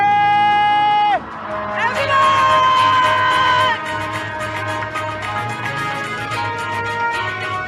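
Studio audience hooting, whooping and cheering in celebration, a loud, sustained crowd roar with shrill whistles that bursts in after a second and carries on to the end.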